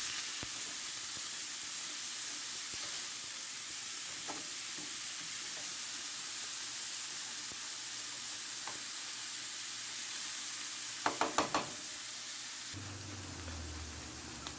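Cauliflower rice with roasted garlic and herb seasoning frying in a pan, a steady hiss of sizzling with a quick cluster of stirring scrapes near the end.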